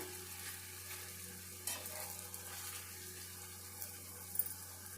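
A pothappalu rice flatbread frying in oil in a pan, a faint, steady sizzle with soft occasional crackles and a low background hum.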